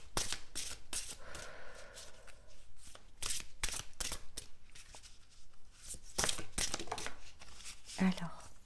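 Oracle cards are shuffled by hand in quick, crisp riffles and slaps, close and fairly quiet, with a card falling out partway through.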